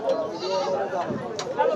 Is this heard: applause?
no